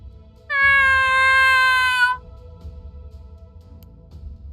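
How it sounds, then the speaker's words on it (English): A single clear, drawn-out cat meow, close and loud, lasting about a second and a half before fading into quiet room tone. "Okay, you'll get a meow."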